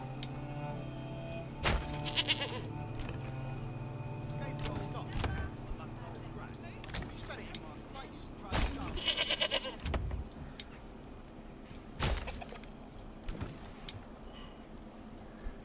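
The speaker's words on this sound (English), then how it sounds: "Just a mixture of goats, chickens." Goats bleating in the medieval video game Manor Lords, several separate cries against a soft game ambience with jingling sounds, while a person talks at intervals.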